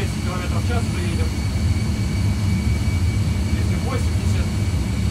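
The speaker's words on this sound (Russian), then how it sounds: "ставим 50, двигатель разгоняется до 50, после этого взлет полный." Airbus A320 jet engines spooling up for takeoff in a flight simulator, a steady loud low roar and whine held throughout, with faint voices talking over it.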